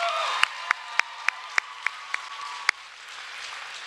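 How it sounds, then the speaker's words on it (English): A crowd applauds a cheerleading team at a Say Yes Cleveland announcement event: steady massed clapping throughout, moderately loud, with sharp louder claps standing out in a regular pattern. "Let's give another round of applause for this incredible cheerleading team"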